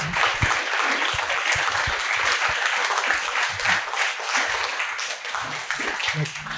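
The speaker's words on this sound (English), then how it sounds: "Can we just give a round of applause to our speakers" An audience at an evening talk gives its speakers a round of applause, with sustained dense clapping and a few louder claps standing out nearby for the full length.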